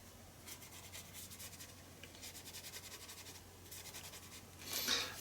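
A pencil is rubbed back and forth over paper while shading a drawing, producing soft, quiet scratchy strokes in quick rhythmic bursts, close up with no talking.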